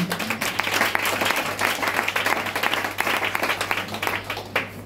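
Congregation applauding at a church service, a dense steady wash of many hands clapping at once with a low hum underneath, filling the room without a break for about five seconds.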